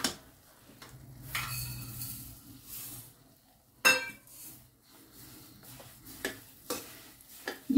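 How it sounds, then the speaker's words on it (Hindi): Roasted semolina halwa with cardamom and sugar being stirred in a pan: faint, sparse scrapes and clinks of a spoon against metal with a light sizzle between strokes, close by and with no speech. "अब इसको अच्छी तरह से चलाएंगे।"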